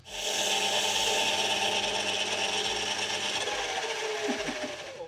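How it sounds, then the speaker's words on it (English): Emery tape rubbed by hand across a machined metal part on a manual lathe, a continuous loud rasping scrape that runs steadily for about five seconds, close up and with no talk. "there's nothing a little emery tape can't fix"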